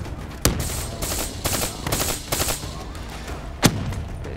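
Gunfire from a gun in Call of Duty Black Ops 3: one sharp shot, a run of rapid bursts in quick rhythm, then a single loud shot near the end, close and loud without talk.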